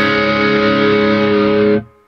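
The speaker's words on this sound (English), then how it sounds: "a crunch sound," Electric guitar with a crunchy overdriven tone from an overdrive pedal, a sustained chord ringing loudly and evenly before cutting off abruptly near the end.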